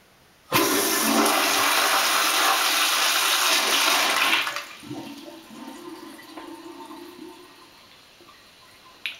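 An American Standard Cadet pressure-assisted toilet flushes with a sudden loud, forceful whoosh of pressurized water lasting several seconds, then drops to a quieter gurgling refill.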